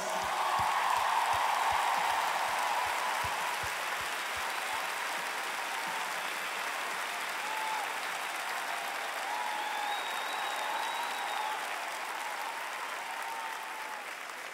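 A large arena concert crowd at a show gives a performer a long, thick ovation, loud at first and then settling into a sustained steady roar of clapping.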